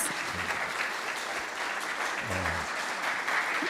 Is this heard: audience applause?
yes